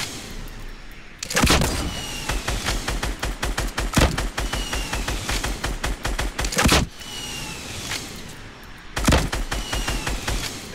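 Gunfire in Fortnite Battle Royale: rapid bursts of close, loud shots in quick succession, broken by a few heavier blasts, running continuously with no talk.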